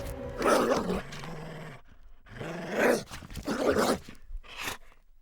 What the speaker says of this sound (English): He bares his teeth and growls deeply